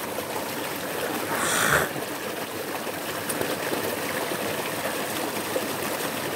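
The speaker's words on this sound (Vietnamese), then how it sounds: "Suối thì vẫn chảy ngày đêm" A small stream flows steadily through hilly countryside in Vietnam, a continuous close rushing and trickling wash with a brief louder splash near the start.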